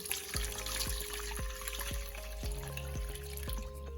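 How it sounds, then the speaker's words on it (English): Carrot juice strained a second time through a fine strainer, giving a steady close trickle with a run of evenly spaced drips and plops, with no talking. "I'm gonna go ahead now and strain our carrot juice that we just strained before with the regular strainer"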